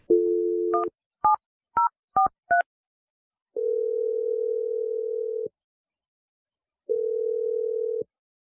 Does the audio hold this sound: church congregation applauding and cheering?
no